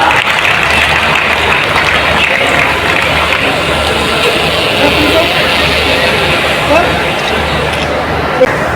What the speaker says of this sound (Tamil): கைத்தட்டல்களோட வெல்கம் பண்ணிடலாம்